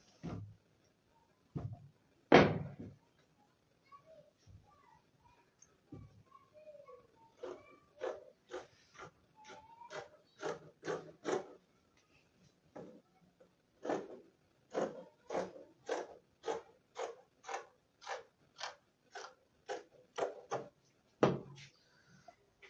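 Scissors cut fabric for a safari suit, starting with a few sharp thumps and then settling into a long run of regular, crisp snipping strokes that sound close and clear with no one talking.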